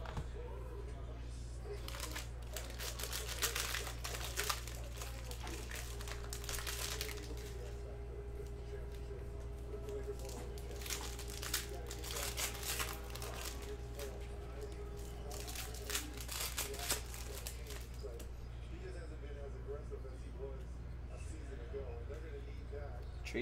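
Foil wrapper of a Panini Mosaic basketball card pack crinkles and tears in short bursts, close up, over a steady low hum, with brief quieter shuffling near the end.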